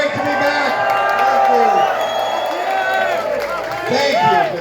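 A political rally crowd in St Catharines cheering and whooping loudly and steadily, close and continuous, with voices shouting over the din.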